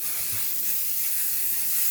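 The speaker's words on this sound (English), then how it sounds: "Just section your hair, spray it roots to ends." Hair spray hisses out in one continuous, steady misting spray, close and fairly loud, with no voices.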